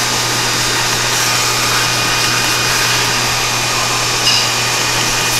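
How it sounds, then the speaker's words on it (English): A belt grinder sanding a knife blade gives a loud, steady, close grinding roar with a constant motor hum and abrasive hiss throughout, no talk. "Change grits, make it into a 120, so that when we move over to our finish belt"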